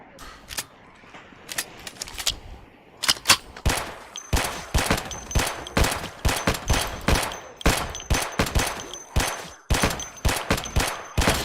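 Rapid bursts of gunfire in the zombie survival game Project Zomboid, loud and close, with single shots early then dense repeated volleys that continue steadily to the end.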